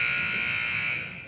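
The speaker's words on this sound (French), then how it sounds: "Alarme, incendie" A fire alarm aboard the French Navy ship Mistral blares as a loud, continuous electronic tone that fades slightly at the end, with no speech.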